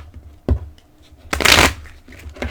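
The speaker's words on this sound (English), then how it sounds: "I did shuffle these off camera, but I'll do it once on camera for your viewing pleasure." Oracle and angel cards shuffled by hand: a sharp riffle at first, then a longer, louder burst of rapid papery flutter, ending in a few softer taps as the deck settles. No one speaks.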